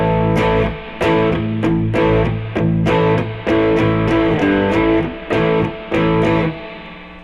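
Distorted, overdriven electric guitar rock chords ring out loudly in short repeated strums, each chord sustaining briefly before the next attack, with the chord shape shifted along the neck.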